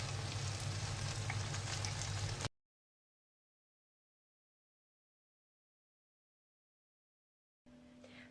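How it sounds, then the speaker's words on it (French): Bourek pastries sizzling in hot oil in a frying pan, a steady crackling fry for a couple of seconds before cutting to silence, with faint kitchen sound returning at the end. "on vient les faire revenir à la poêle 2-3 minutes de chaque côté"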